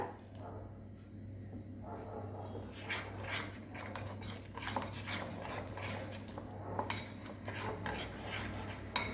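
Besan batter for kadhi bhaji is whisked in a bowl with quick, steady strokes that tick and scrape continuously. The sound is close but fairly quiet over a constant low hum.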